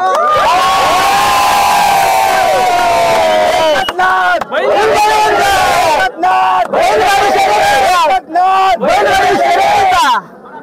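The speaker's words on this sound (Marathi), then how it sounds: "सर्वांनी एकदा जोरदार टाळ्या होऊन जाऊ द्या." A crowd at a bullock cart race in Alibag cheers and shouts loudly. Raised voices stack into a sustained roar with brief dips between surges.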